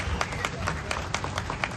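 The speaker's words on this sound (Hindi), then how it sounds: "आप भी तालियां बजा के नरेंद्र मोदी जी को धन्यवाद दीजिए।" A seated audience at a public government event claps together, a steady dense patter of hand claps carrying on throughout, fairly close and moderately loud.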